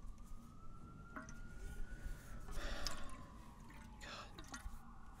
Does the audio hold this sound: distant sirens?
yes